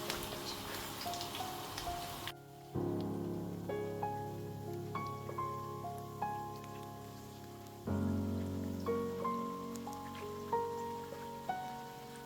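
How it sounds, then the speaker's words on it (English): Spoonfuls of Nigerian water yam paste drop into hot oil and fry with a soft, steady sizzle and crackle under faint tonal background music, with a short quieter gap near the start. "I gently scoop out the paste into the hot oil"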